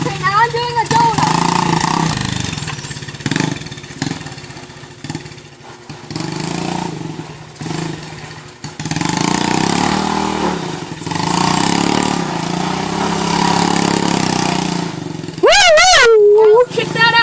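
A dirt bike engine revs and sputters while spinning a donut, a buzzing mid-pitched drone rising and falling in bursts, close and loud with short pauses.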